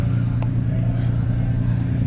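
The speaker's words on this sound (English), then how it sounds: "This row of cars are being ran through now." Cars rolling through an auto auction lane, a steady low engine rumble close by with a faint tap near the start and no talk over it.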